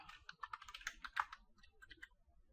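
Typing on a computer keyboard while a username is entered during a Windows 7 setup, a quick irregular run of close, light key clicks spread over a couple of seconds with no voices.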